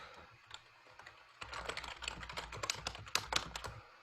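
Code being typed on a computer keyboard during an introductory JavaScript lesson: a few scattered key taps, then a denser, rapid run of crisp clicks, close and fairly quiet, with no speech.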